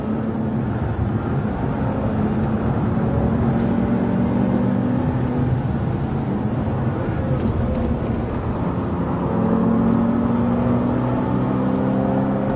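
A Bentley Continental Supersports climbs a twisty mountain road, its engine a steady strong drone with tyre and wind roar rising and falling as it changes direction, heard continuously from inside or close by without talking.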